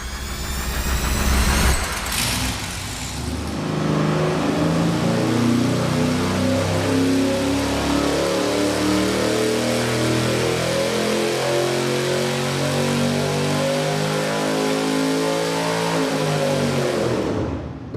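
A bone-stock V8 engine running on a dyno, loud and close, with a sharp start followed by a sustained steady rumbling run that shifts pitch near the end and stops, with no talk.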